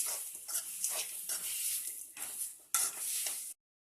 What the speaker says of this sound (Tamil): கருவேப்பிலை எல்லாம் எண்ணெயிலே வதக்கி